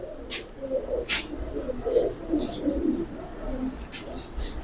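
Pigeons coo in low, throaty, repeated rolls, with a brown-necked old-breed male and a boot-beaked, kohl-eyed female among giribaz birds for sale, over faint background chirps and clicks.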